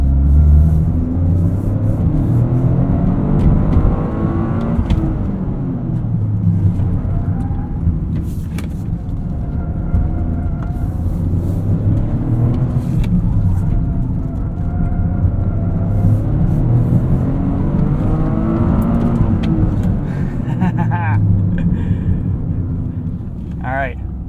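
A 2023 Toyota GR Corolla in GR4 track mode circling a tarmac and dirt circuit, its engine droning and rising and falling with acceleration over a steady road rumble, with someone talking over it.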